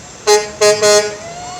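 A log truck rolling by in a small-town parade sounds its horn in three short blasts, loud and close, the last one a little longer, over a low background rumble.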